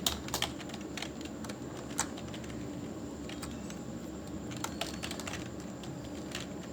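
Someone enters data into an Excel spreadsheet on a computer keyboard, producing quiet, irregular clicks of keys, with isolated taps and short bursts close by in a still room.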